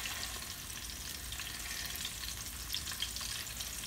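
Red snapper pan-fries in oil, producing a soft, even sizzle with faint crackles, quiet and steady, with no voices.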